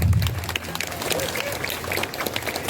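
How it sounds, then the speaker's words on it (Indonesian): Audience applause at a lively comedy show, a dense patter of clapping that keeps up through the whole moment, with some voices mixed in underneath. "Nuna tepuk tangannya"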